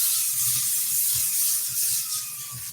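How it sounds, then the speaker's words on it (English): Cooking spray hissing onto a baking sheet, a loud, close, continuous aerosol spray lasting a few seconds with a slight rattling texture. "I'm going to use some cooking spray."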